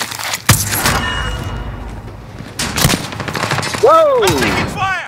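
Rapid automatic gunfire in a shooter video game, loud close bursts rattling almost continuously with sharp single shots and a ricochet-like whine near the end, no speech over it.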